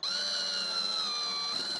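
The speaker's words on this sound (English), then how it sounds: "What I'm doing here is I want to screw this in from the bottom." A power drill drives a screw up into timber from underneath during a car camper conversion, one sustained high whining spin with steady pitch, close and loud, ending abruptly.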